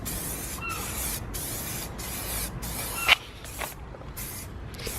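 Black spray paint hisses from an aerosol can onto car parts of a Nissan Silvia Spec R S15, in several steady bursts separated by brief pauses, up close and without any talking.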